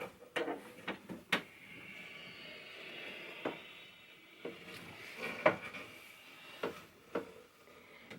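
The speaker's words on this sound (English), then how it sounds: "this flips up and the machine will come out" A wooden cabinet top on a 1904 Standard sewing machine flips open and the machine is lifted out. Scattered hollow knocks and clunks of wood and metal, close by, with quiet shuffling between them.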